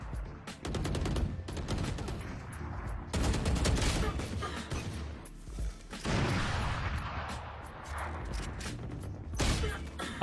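Rapid bursts of gunfire from a first-person shooter, with repeated fusillades of shots fired while the player runs, loud and close, with brief pauses between volleys.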